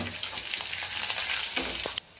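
Hot oil tempering with mustard seeds, cumin, dried red chillies, garlic and curry leaves, giving a loud, dense crackling sizzle close by that cuts off abruptly near the end.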